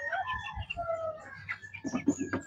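A hen clucks softly near her chicks, with high chirps from the young birds and low, close cackling in short bursts, fairly quiet overall.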